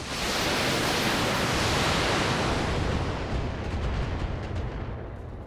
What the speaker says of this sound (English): We can do an example of some long-range fire with the LRMs here.